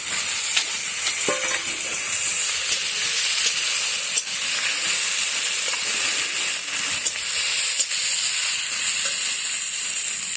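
Dried fish and garlic sizzle steadily in hot oil, giving a loud, continuous frying hiss close up, with a few light clinks of a stirring utensil and no talking.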